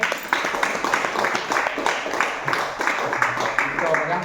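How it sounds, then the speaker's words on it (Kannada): An audience claps for a birthday at an ashram, with steady rhythmic applause from a group that keeps going throughout while a voice talks over it. "ಇನ್ನೂ ಜೋರಾಗಿ ಚಪ್ಪಾಳೆ ಹೊಡೀರಿ"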